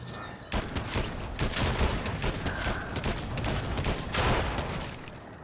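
Rapid video game gunfire in steady bursts, close and loud, sounding like a fusillade with a few heavier shots mixed in, with no talking.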